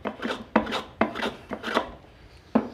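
A hand rasp files a wooden carving mallet in a series of rough, scraping strokes, about six distinct rasping passes with sharp onsets, close and moderately loud, with no talking.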